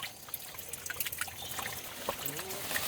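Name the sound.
drinking water trickling in a hill stream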